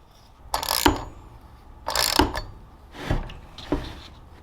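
A new flywheel nut being tightened on a Stihl 066 chainsaw gives four separate bursts of rapid ratchet clicking, close and fairly quiet, with short pauses between them.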